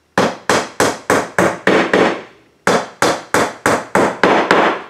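A hammer drives nails into a wooden birdhouse kit: two quick runs of about six sharp, ringing blows each, loud and close, with a short pause between the runs and no talk.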